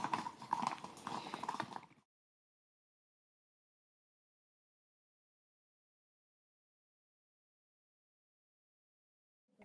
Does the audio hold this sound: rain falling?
no